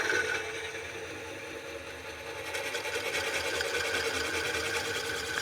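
Wood lathe running while coring a bowl with a Woodcut Bowlsaver, giving a steady, close mechanical hum and rattling buzz that grows slightly harsher partway through, with no talking.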